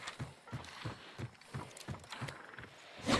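A video-game horse gallops with a steady, evenly spaced run of hoofbeats, moderately loud and continuous, with no talk over it.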